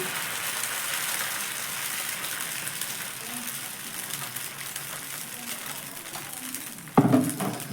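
Batter sizzles in a hot pan as a ladle swirls it into a round shape for a healthy tiffin made without wheat flour, refined flour or semolina. A steady close hiss runs throughout, ending in one sharp metallic clank.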